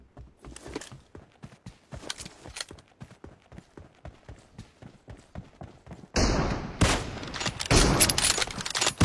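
Gunfire in the mobile battle game BGMI: a long run of sharp rapid shots and footsteps-like taps, then louder dense bursts near the end, mid-distance and fairly loud with no talk.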